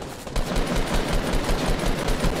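Rapid automatic gunfire from a Fortnite Battle Royale match, loud and continuous bursts of bullets with no talk over them.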